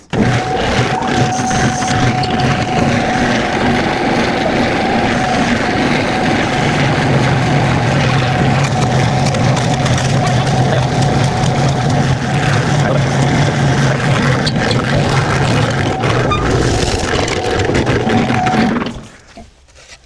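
An old Harbor Freight concrete mixer churns steadily at close range, a constant droning motor hum with a grinding, rumbling drum that runs without pause for about nineteen seconds before cutting off abruptly.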